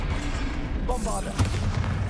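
A Bombarda blast spell from the Hogwarts Legacy game goes off with a sharp burst and booming rumble amid steady battle noise, while a voice speaks briefly over it.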